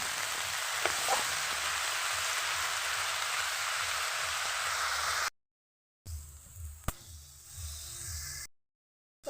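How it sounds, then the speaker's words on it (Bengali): Bottle gourd greens stir-fried in a pan, a soft continuous hiss of frying with faint stirring scrapes, cutting out briefly twice, then quieter sizzling; no speech. "শাকটাও একটুখানি আমি নেড়ে সেড়ে ভালো করে এর সঙ্গে ভেজে নেব"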